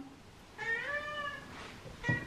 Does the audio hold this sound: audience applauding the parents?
no